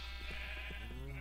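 A sheep bleats once in the Minecraft video game, a short, faint call set over a steady background hum.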